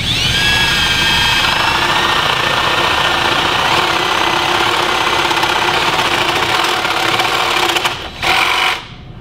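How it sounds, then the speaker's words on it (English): A power drill boring all the way through a wooden workpiece for a Viking chair runs as a loud, steady whine for about eight seconds, then spins down briefly and stops near the end. "I'll take that and drill all the way through"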